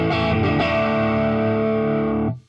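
Electric guitar through a digital amp with drive at about 45%, one sustained distorted chord ringing loud and steady for two seconds before being cut off abruptly.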